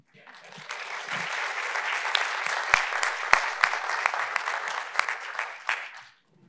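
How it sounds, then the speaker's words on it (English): Symposium attendees break into applause that builds within a second and holds as a full, dense patter of many hands, with a few sharp louder claps, before it fades out near the end. "That's worth applause."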